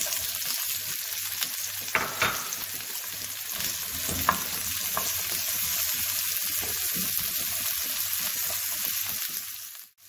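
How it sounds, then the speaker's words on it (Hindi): Chopped onion and cumin seeds fry in a tablespoon of hot oil for an aloo paratha filling, giving a steady, close sizzle with a few sharp spatula scrapes and clicks against the pan, and no voices. "अब मैं इसमें डाल रही हूँ 1/2 कप चॉप प्याज।"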